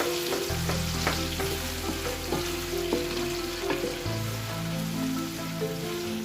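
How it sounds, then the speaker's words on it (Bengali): Sliced onions frying in a hot pan for a mutton rezala, a steady broad sizzle with scattered crackles and clicks, loud and close, while low tonal hum bands run underneath and shift partway through; no one speaks. "আমি এখন পেঁয়াজ দিয়ে দিচ্ছি। পেঁয়াজটা আমি একটু ভেজে নেব ভালোভাবে।"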